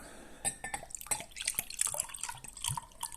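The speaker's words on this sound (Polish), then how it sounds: "Zaraz wleję do szklanki i zobaczymy" Rosehip vinegar with an amber colour is poured into a glass, giving a close run of splashing, trickling and dripping liquid sounds with small glassy clinks, quiet and without talk.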